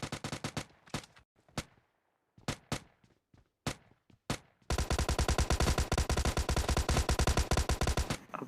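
Gunfire in a battle royale video game: separated single shots and short bursts early on, then a sustained rapid automatic volley, close and sharp with no talk.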